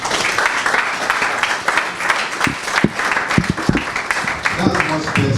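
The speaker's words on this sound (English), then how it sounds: "The clap harder for the host." An audience at a youth drone workshop held by the US Consulate in Nigeria applauds the host, with continuous, moderately loud clapping and a few sharper individual claps standing out.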